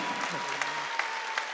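Korean church congregation claps during a Wednesday worship service, a short burst of scattered applause with a few sharper individual claps, while a voice sounds over the start.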